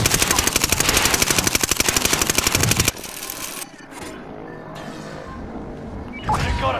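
Rapid automatic gunfire from enemies in Call of Duty Modern Warfare, a loud, dense stream of shots for about three seconds, then quieter engine rumble and ambient game sounds.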